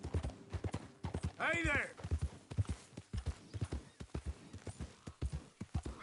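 Horse hooves clip-clop steadily at a walking pace in Red Dead Redemption 2, with a brief whinny partway through and someone speaking over the rhythmic footfalls.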